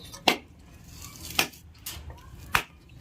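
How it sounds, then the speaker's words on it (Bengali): A coconut being cracked open by hand: three sharp, separate cracking knocks spaced about a second apart, fairly close, with a quiet background between them. "নারকেল ফাটানোর সব থেকে সোজা কাজ।"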